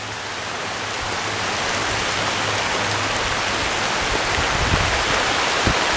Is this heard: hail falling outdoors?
yes